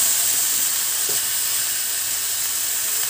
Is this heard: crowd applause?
no